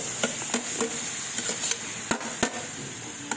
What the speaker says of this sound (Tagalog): Tapos, lagay po natin yung ating gulay.